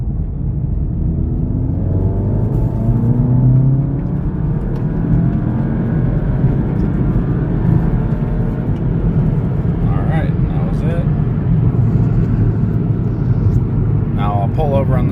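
An MQB-platform car accelerating hard in third gear from 2,000 to 7,000 RPM, its engine a loud, steady rising drone and rumble heard from inside throughout, with a voice briefly underneath.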